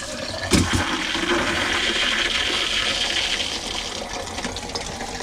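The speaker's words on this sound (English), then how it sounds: "the erratic flow of water." Water sputters and gushes unevenly from the faucet of a 1994 Fleetwood Flair 32 diesel pusher motorhome as air in the lines interrupts the flow, with a sharp knock early on and no talking.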